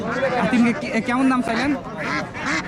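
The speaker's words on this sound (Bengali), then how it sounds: "আপনার ওই চীনা হাঁসগুলো আপনার নাকি ভাই?" Chinese ducks for sale at a rural cattle market quack in a harsh, nasal run of repeated calls, close by and mixed with a voice asking questions.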